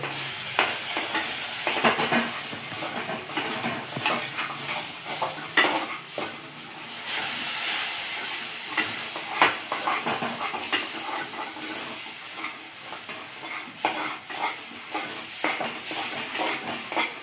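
Flour being stirred continuously in a hot pan until fragrant, a sweet preparation, with rhythmic scraping and clatter of a spoon against the pan over a soft steady hiss, close and with no talk.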